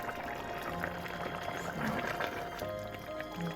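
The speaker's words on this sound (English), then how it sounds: "It's actually simmering." Tripe simmering in a pot, soft continuous bubbling and liquid gurgles at low volume, with faint kitchen clatter.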